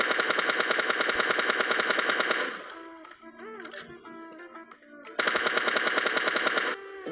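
Sustained bursts of rapid automatic gunfire in PUBG Mobile Lite, loud and continuous for a couple of seconds, a lull with softer game sounds and a voice, then another long burst.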